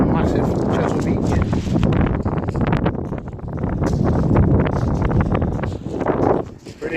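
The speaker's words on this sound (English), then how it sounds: "Really windy up here today, so I'm sorry if it's going to be a bit blowy on the old camera there" Strong coastal wind buffets a camera microphone on a clifftop above a Dorset beach near Portland Bill, producing loud, continuous rumbling gusts that surge and ease throughout.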